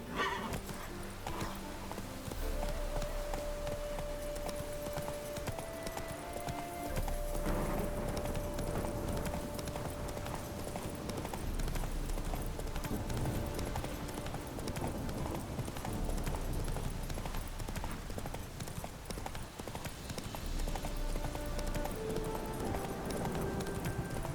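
A horse gallops with steady clip-clop hoofbeats and an occasional whinny in The Witcher 3, heard loud and continuous over the game's background music and ambience.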